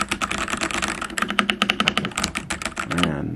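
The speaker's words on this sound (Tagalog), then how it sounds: "dito din po natin madidistinguish ang ating kalakas ng ingay ng keyboard" Rapid typing on a brown-switch mechanical computer keyboard, a dense run of close, crisp key clicks and clacks in an uneven rhythm for about three seconds, with no one talking.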